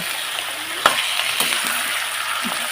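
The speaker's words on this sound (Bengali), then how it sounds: "মাঝারি সাইজ করে নিয়েছি এটাকে একটু তেলের মধ্যে একটু ভাজবো" Medium-sized pieces of jackfruit and chicken frying in hot oil, a loud continuous sizzle up close, punctuated by a few brief clacks and scrapes of a stirring utensil.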